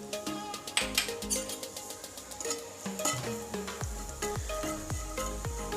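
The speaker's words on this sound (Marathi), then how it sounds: "तेल गरम झालं की त्यामध्ये थोडासा हिंग घालायचं आहे. आणि जी जिरेची पूड करून ठेवलेली आहे ती घालून घ्यायची." Asafoetida and cumin powder sizzling in hot oil for a spinach soup tempering, a crackling sizzle under a rhythmic musical beat with repeated thumping notes.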